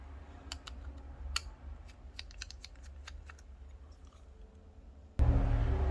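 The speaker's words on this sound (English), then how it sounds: "I will open all the screws here." Screws being removed from a Samsung Galaxy A51 phone, a series of tiny sharp clicks and ticks from a small screwdriver at close range, quiet and irregular, ending in a sudden louder handling thump.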